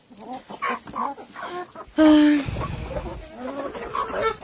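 Chickens clucking and squawking close by, with one louder squawk partway through; no speech.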